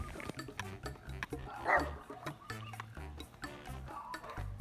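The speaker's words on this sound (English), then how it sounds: "there's that dog always barking at you" Dog barking in short, repeated bursts amid nearby clatter and low chatter at a sushi restaurant, the barks moderately close but not loud.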